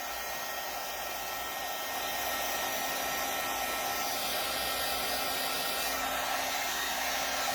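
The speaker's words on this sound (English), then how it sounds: "I'm going to hit this with a little bit of heat, so pardon the noise, just to dry it off a bit" Heat tool blowing hot air over craft work in a journaling session, a steady loud whooshing roar throughout that gets slightly stronger after the first couple of seconds, with no voices.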